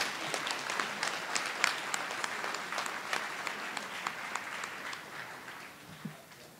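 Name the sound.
audience applause for 12th graders at a board meeting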